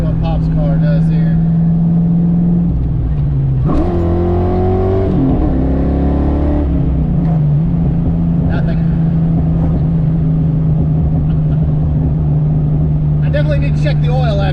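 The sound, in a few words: Pop's car accelerating on a pull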